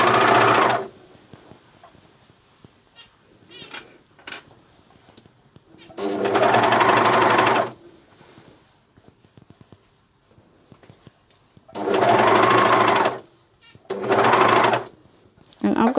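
A Juki MCS1500 coverstitch machine hems a knit top in the round, running in loud steady bursts of a few seconds each, separated by quiet pauses with soft handling noises while a person talks.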